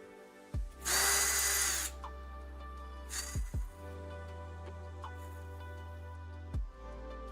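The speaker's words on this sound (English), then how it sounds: "let me start by drilling out all these, or not drilling them out, but reaming these." A power drill reams out holes in a 3D printed part for a Casadio Unimog RC truck, with one long whirring burst and a couple of shorter spins close up, separated by light handling clicks.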